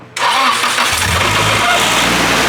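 A Nissan S14 Silvia engine cranks and fires, catching almost instantly into a loud, close, steady idle that holds with no talk over it.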